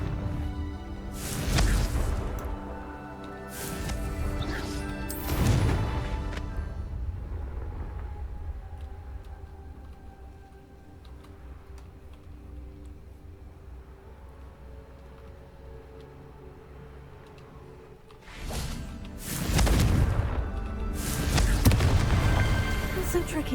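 Confringo fire spell blasts in Hogwarts Legacy, several loud bursting booms early on, a quieter humming stretch in between, then another cluster of heavy explosive hits near the end, with some speech present.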